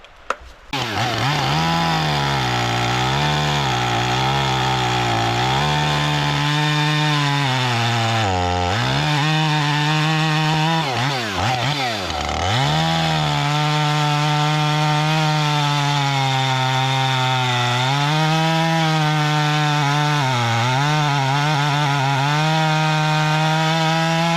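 A chainsaw cuts into a tree beside a ditch. It roars loud and close, its pitch wavering as the load changes. The revs dip sharply a few times, then the engine bogs down and stalls.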